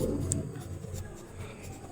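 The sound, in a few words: writing on a board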